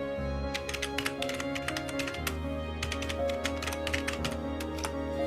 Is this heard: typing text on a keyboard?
yes